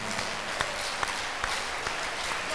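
Church crusade congregation clapping together, a faint, dense patter with a few louder claps standing out over about two seconds.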